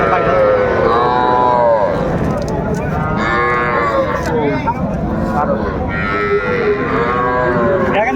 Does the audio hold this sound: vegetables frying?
no